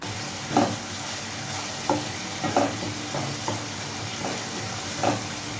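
Spice paste for egg curry frying in a pan, with a steady low sizzle and a handful of sharp scraping stirs at irregular intervals, close and moderately loud.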